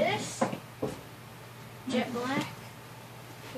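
Drawer being opened and searched, a few short wooden knocks and rattles of contents at intervals, close by, between bits of quiet talk.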